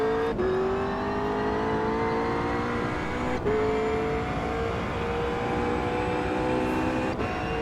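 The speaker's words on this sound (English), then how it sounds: "You can hear the car bottoming out there." A McLaren 720S GT3 engine in the racing game Automobilista 2 screams at high revs approaching Eau Rouge while sharp scraping thuds break through about three times as the car bottoms out on the track.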